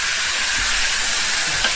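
Minced beef hitting a very hot pan, a loud broad searing hiss that holds steady and close without a break.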